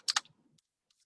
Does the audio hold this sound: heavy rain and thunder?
no